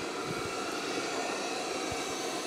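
An OKP Life K5 robot vacuum cleaner runs on a floor scattered with flour, its suction motor giving a steady, fairly faint whirring drone with a few soft low bumps.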